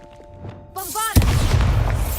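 A loud booming blast from the Bombarda explosion spell in Hogwarts Legacy, preceded by a short shimmering magical rise. The blast rumbles on afterward.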